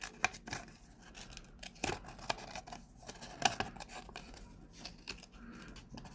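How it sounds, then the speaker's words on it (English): Small scissors on a Swiss Army Knife multitool snipping through paper, a series of quiet crisp cuts and rustles at an uneven pace, close and without talk. "So paper, you can go ahead and, I don't know, cut a circle"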